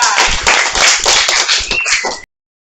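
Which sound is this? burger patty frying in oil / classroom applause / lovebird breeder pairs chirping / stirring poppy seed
classroom applause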